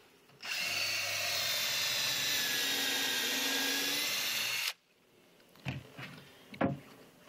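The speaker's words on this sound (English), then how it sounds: "Drill a hole." Close, loud power drill grinding steadily through wood for a raised garden bed for about four seconds, then stopping, followed by a few sharp knocks and handling noises.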